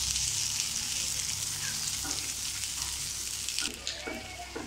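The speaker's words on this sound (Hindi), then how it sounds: "5 मिनट तक हम इसी तरीके से हिलाते हुए पकाएंगे इसे।" A gola kabab mixture with chopped mint sizzles in a pan while being stirred, a steady hiss with a few soft clinks and scrapes near the end, close-up and without speech.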